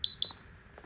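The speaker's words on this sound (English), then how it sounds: "Beep beep, does it?" Security checkpoint alarm in Alan Wake 2 at a restricted government facility, two short sharp electronic beeps in quick succession, followed by quiet background ambience.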